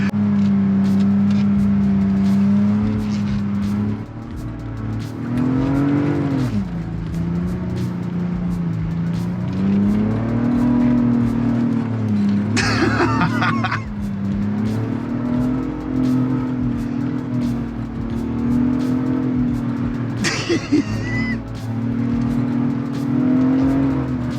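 2022 Ford Bronco Raptor with a 10-speed gearbox, driving off-road on a beach in first gear, gives a loud steady engine drone that rises and dips with revs and brief sharp bursts, heard close and continuously.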